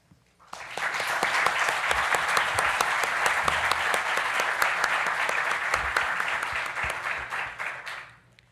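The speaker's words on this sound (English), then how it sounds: "So please join me in a round of applause." Conference audience at the Banco Central do Brasil annual conference breaks into sustained applause, dense and even for several seconds before tapering off at the end, with no talk over it.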